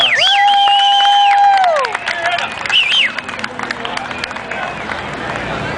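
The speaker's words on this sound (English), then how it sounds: "big round of applause for Bob because he's been awesome to us." Crowd at a live band show cheering and clapping for a man named Bob, loud whoops and shouts at first, then lighter scattered clapping and chatter.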